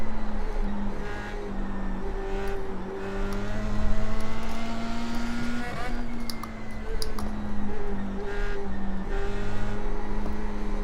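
An F3 race car engine in the iRacing sim at Lime Rock drones steadily and loud throughout, its pitch rising and falling with throttle and shifts, with brief lifts off the gas.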